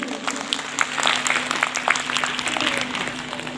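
Crowd clapping in response to a call for loud applause at an Adivasi Sarna prayer gathering in Ranchi, a dense, continuous round of hand claps of moderate loudness holding steady throughout.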